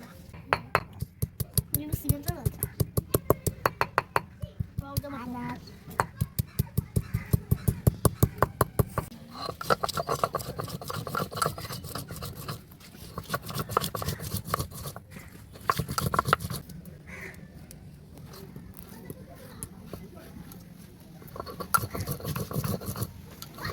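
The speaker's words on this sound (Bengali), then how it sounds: "এবার আমি শুকনো লঙ্কা আর আদাটা বেটে নেব" Dried red chillies and ginger crushed on a grinding stone: a steady rapid rhythm of close, gritty stone-on-stone scraping strokes, pausing briefly and resuming in bursts throughout.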